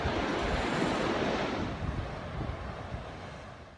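Ocean surf at Anahola Beach Park on Kauai, Hawaii, a steady broadband wash of breaking waves with some wind noise on the microphone, loud and continuous, easing slightly toward the end.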